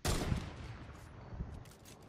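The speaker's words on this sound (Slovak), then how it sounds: "Hej, strieľa zo stromu sa mi zdá." Gunfire from a sniper in a video game, heard as a loud burst of shots at the start followed by a further crack partway through, over a busy background of game noise.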